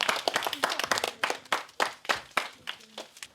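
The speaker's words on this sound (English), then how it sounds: "Give yourselves a round of applause." An audience at a 2008 maths masterclass on polygons breaks into steady, loud applause, many hands clapping together in a dense, continuous patter that holds throughout.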